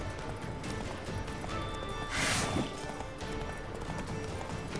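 Hoofbeats of a horse galloping in The Witcher 3 form a steady, busy clip-clop under dense game music and ambience, with a brief bright whoosh midway.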